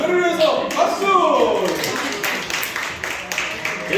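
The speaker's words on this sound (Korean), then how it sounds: "별을 위해서 박수!" Congregation at a youth worship service clapping for a child, a brief burst of claps mixed with children's chatter and voices throughout, fairly close and moderately loud.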